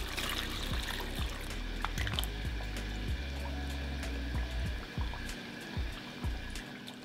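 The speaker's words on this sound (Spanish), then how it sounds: "Vamos a ponerlos a hidratar con agua caliente." Hot water is poured over dried chiles, including chile de árbol, to rehydrate them. A steady splashing trickle runs close and continuous for several seconds, with no talk.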